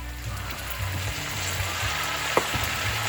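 Garden cabbage goes into a hot pan and sizzles with a steady, close hiss, with a few clanks from the pan or utensil and one sharp knock near the end.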